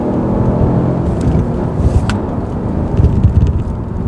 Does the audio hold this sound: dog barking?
no